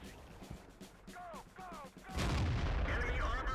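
A tank cannon fires in a tank video game: a loud, broad blast hits about two seconds in and rumbles on to the end, following a stretch of quieter game noise and a brief voice.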